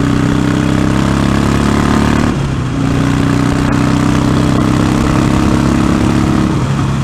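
A motorcycle engine roars steadily and loudly throughout as the bike runs fast down a hill, a dense continuous drone with a brief dip in pitch partway through, close to the listener with no talking.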